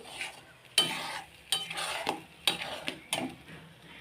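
Kochu paturi, a taro-based dish, cooking in a kadai over medium heat, with intermittent sharp scrapes and clinks of a utensil against the pan over a soft sizzle, heard up close without voices.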